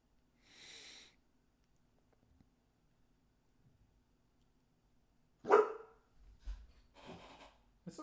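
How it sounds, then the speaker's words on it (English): A dog barks a few times indoors: one short early bark, then a louder sharp outburst several seconds later, followed by snorting and sniffing. Long quiet gaps separate the sounds, and nobody speaks. "Something's got the dog feeling spicy."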